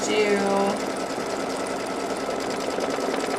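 A sewing machine tacking down the back of a fabric piece runs steadily and loudly up close, a continuous rapid mechanical whir with a brief higher whine at the start.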